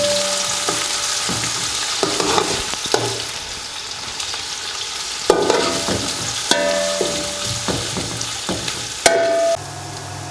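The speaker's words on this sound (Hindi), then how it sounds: "अब प्याज को हम फ्राई करेंगे जी" Small pieces of chopped onion frying in hot oil for beef pulao, a loud continuous sizzle broken by close scraping stirs and occasional sharper clatters of the spoon against the pot.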